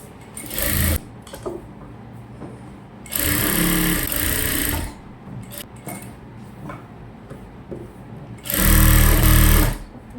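A sewing machine stitches around an old saree being made into a full-circle gown, running in three loud, close bursts of rapid whirring with quiet pauses between them.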